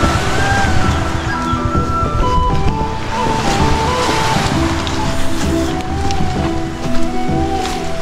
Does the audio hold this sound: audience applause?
no